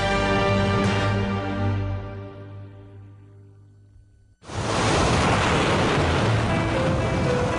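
Pacific Ocean waves and surf off California: a tonal passage fades out, then a loud, steady roar of breaking surf cuts in and holds to the end.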